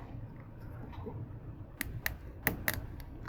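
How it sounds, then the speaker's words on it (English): Sharp ratcheting clicks from an action figure's arm joint being twisted a full 360 degrees, four or five distinct close snaps in the latter half over a faint background hiss. "If you can hear that clicking, that's after warming this sucker up, and that's still like a damn ratchet."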